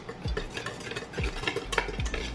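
Dry ingredients for a carrot cake, including dark hot chocolate mix used in place of cocoa powder, stirred in a bowl with a utensil, giving rhythmic scraping and stirring strokes that sound close and steady, with no talk.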